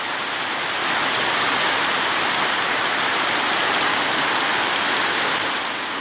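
Heavy rain pours down in a dense, steady hiss that stays constant throughout, with no voices over it.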